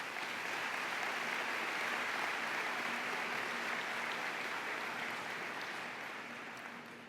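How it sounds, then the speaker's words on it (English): A large audience at a 2019 school district convocation applauds its teachers, a dense, even wash of clapping that holds steady and then starts to fade, with no talk over it. "Let's give our teachers a round of applause."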